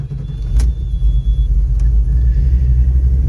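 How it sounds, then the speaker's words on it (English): A 1984 GMC Jimmy Sierra Classic truck with a replaced engine rumbling at a steady idle up close, its deep low drone holding even throughout with faint clicks above it. "inside the truck, we'll go ahead and get it started up."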